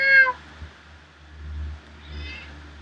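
A cat meows twice, a short clear call at the start and a softer one near the end, with quiet low background hum between.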